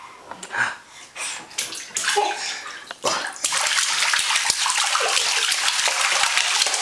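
A child splashes in a garden bathtub, loud and close. Early uneven sloshes and slaps give way to a steady rushing wash of water, with a voice briefly audible.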